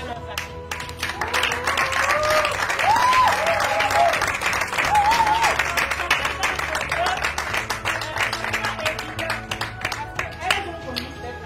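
Audience clapping at a café art event, a sustained round of applause with sharp individual claps, while a voice talks over it in the middle.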